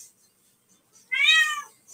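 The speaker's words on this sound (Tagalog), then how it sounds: "Wag ka mag-meow-meow." One clear, high meow from a cat, close and fairly loud, lasting about half a second in an otherwise quiet room.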